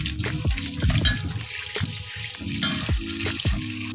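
Three medium-sized cut potatoes are rinsed by hand in water, with repeated sloshing splashes and brief pauses between scoops.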